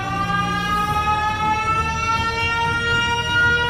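Cartoon siren from a character in a Gulli Bulli animation, a steady loud wail with sustained tones that hold on without pause.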